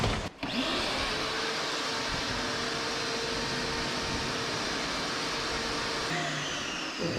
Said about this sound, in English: So why don't we vacuum that up